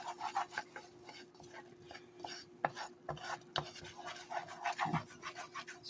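Turkey giblet gravy being stirred in a pot with steady scraping, rasping strokes of a spoon against the pan bottom, close and fairly quiet, in an uneven repeating rhythm with no talking.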